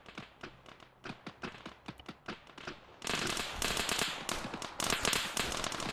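Gunfire in the video game Arma 3, first a string of sharp separate cracks at moderate distance, then a denser, louder burst of overlapping shots and crackle that keeps going to the end.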